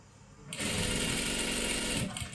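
A sewing machine stitches close along the edge of a salwar waistband for a drawstring, starting after a quiet moment and running in one steady, close burst of about a second and a half.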